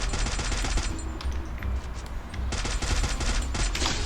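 Rapid automatic gunfire from the Free Fire shooting video game, with dense, loud bursts of rattling shots that pause briefly mid-way and then resume.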